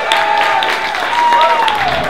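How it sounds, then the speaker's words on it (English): Audience applause at a horror festival kickoff event celebrating young local artists in Eugene: steady, dense clapping throughout the clip, with a thin sustained tone running above it. "let's give a round of applause for our young artists here in this town"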